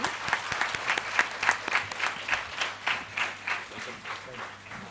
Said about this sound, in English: I request all for a round of applause